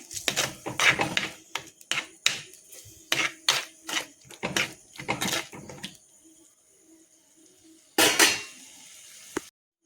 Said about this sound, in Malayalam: നമ്മൾ തക്കാളി വേപ്പലയൊക്കെ ഇട്ട് അതൊന്ന് വഴറ്റിക്കൊണ്ടിരിക്കണം